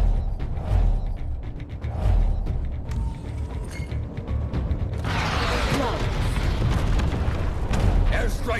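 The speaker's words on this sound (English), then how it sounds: "Airstrike's over." Airstrike explosions in Tom Clancy's Elite Squad, heavy booming blasts and rumbling debris that swell into a sustained roaring burst midway, dense and loud.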